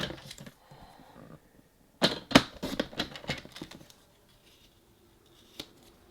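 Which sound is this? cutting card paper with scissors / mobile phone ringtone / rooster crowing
cutting card paper with scissors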